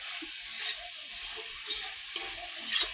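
Pork frying in a pan with tomato, salt and turmeric, a steady sizzle broken by several louder bursts of stirring and scraping, close and alone.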